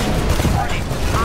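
Dense, rapid gunfire fills a Titanfall battle on Xbox, a loud continuous burst of overlapping shots and blasts with no clear gaps.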